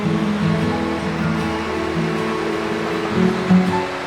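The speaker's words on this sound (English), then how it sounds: "Look at the waterfall, ain't it pretty?" Waterfall fountain at the Navy Memorial in Washington DC, heard as a steady broadband rush of falling water, with faint city traffic hum beneath and no talk.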